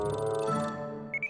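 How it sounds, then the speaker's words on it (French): Reminder alarm ringing in a French Polly Pocket cartoon, a brief sustained electronic tone that cuts off, followed by two short high beeps. "Oh, c'est mon alarme de rappel."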